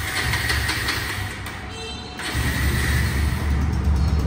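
A second-hand Bajaj Pulsar double disc ABS motorcycle engine runs with a loud, steady, close rumbling drone that dips briefly and then swells again.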